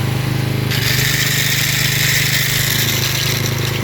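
Petrol generator engine running loud and close with a steady rapid chugging, the note shifting slightly as a hiss rises partway through, with no voices.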